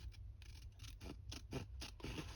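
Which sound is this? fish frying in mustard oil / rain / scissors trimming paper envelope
scissors trimming paper envelope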